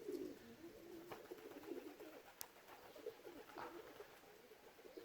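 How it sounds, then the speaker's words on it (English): Pigeons coo softly from trees, a few low repeated calls spread through the stretch over a quiet outdoor background. "You can hear the pigeons in the trees up here."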